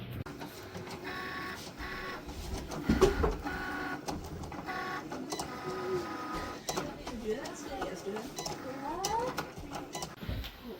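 A Cricut cutting machine runs with mechanical whirring and shuttling movements, heard under ongoing conversation, with a cat meowing at times.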